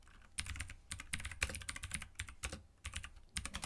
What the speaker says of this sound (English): And the microphone is right next to the keyboard